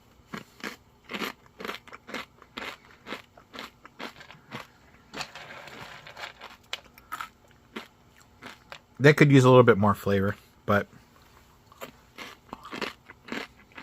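Someone bites and chews crispy MRE food, producing repeated close, sharp crunches in an uneven rhythm. A louder burst of crunching comes partway through, and a person talks between bites.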